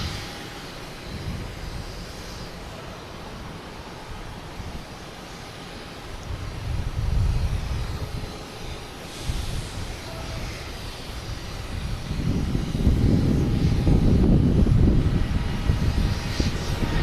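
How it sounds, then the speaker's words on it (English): Delta Airbus A330-900 bound for Atlanta at Boston Logan, a jet engine rumble that surges in low-pitched waves, growing louder toward the end, heard outdoors with some wind, no speech. "here's Delta heading to Atlanta,"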